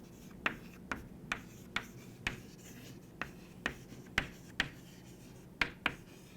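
Handwriting with a pen on a surface, a series of sharp, evenly spaced strokes and taps over a soft scratching bed, close and fairly quiet.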